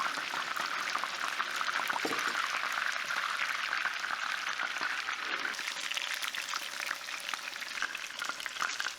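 Steady, dense sizzling of tofu frying in hot oil, continuous and close, with faint crackles throughout and no voices.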